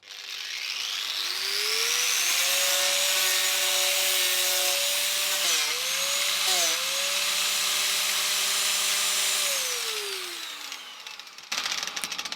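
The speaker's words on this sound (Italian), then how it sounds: "Adesso proviamo il flessibile che assorbe 800 e qualcosa watt." An angle grinder powered from a Bluetti EB70 portable power station spins up with a rising whine, runs loud and steady with a high metallic drone for several seconds, then winds down as it coasts to a stop.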